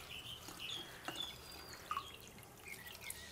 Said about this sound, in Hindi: इसको हम स्टैंडर में डाल देंगे और इसे साफ पानी से धो लेंगे।